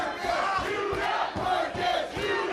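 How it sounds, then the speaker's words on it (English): A split wrestling crowd in Worcester cheers and chants throughout, a dense, loud roar with rhythmic swells from the packed audience at a live match. "You can hear this split crowd in Worcester as Yuta perhaps not feeling the love he thin"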